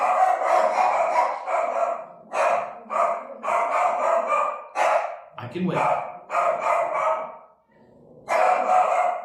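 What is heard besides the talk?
dogs barking at cats outside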